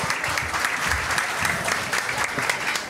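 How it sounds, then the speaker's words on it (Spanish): A live audience at a paranormal-themed Christmas stage show breaks into a strong round of applause, dense and steady clapping with crowd noise, close and sustained for a few seconds. "Un fuerte aplauso."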